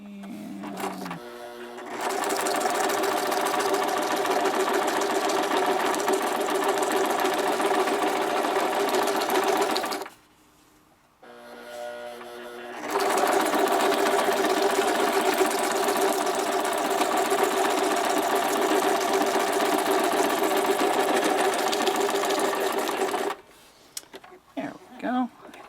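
A sewing machine runs in two long continuous stretches as it stitches through paper snippets, a steady rapid whirring hum close by with a brief pause in the middle and a few short stops at the end.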